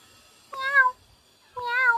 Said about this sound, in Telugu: మ్యావ్ మ్యావ్ మరి భలే సమాధానం చక్కగా ఇస్తాడు పిల్లి బాబు